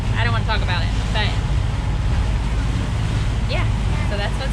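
Waves hit a boat crossing the Gulf Stream on the way to Bimini, Bahamas: constant loud rushing water and wind buffeting the microphone, with brief bursts of voices over the noise.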